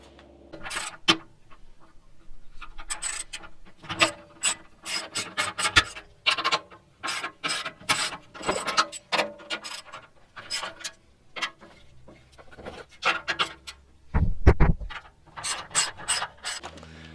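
A hand ratchet loosens 12 mm skid plate bolts on a Toyota 4Runner, giving quick bursts of close, rapid clicking separated by short pauses and occasional metallic clunks.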